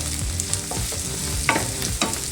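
Two green chillies frying with other ingredients in a pan for an avarekaalu masala curry make a continuous close sizzle, with intermittent scrapes and knocks of stirring and no talk.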